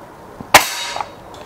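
A single sharp crack from a Vajra .177 Indian air rifle firing one shot, loud and close, with a brief ringing tail and a faint click afterwards.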